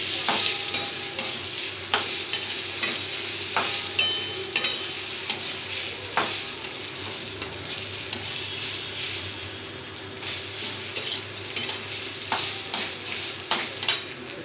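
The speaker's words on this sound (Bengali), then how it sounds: "দিয়ে ভালো করে এটাকে দিয়ে ভেজে নেবো।" Spices with chili powder fry in a pan for a muri ghonto dish, with a steady sizzle under repeated scraping strokes of a spatula stirring the mixture.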